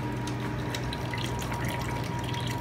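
Cleaning water flowing through home brewing equipment with a pump, a continuous close gurgling rush with a low steady pump hum underneath.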